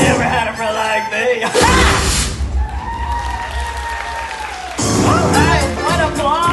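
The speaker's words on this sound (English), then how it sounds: "what applause" Theme park show audience at Disneyland Hong Kong bursting into loud applause and cheering right after a genie's song, a dense wash of clapping and whoops that surges, eases into a lower sustained roar, then swells again near the end.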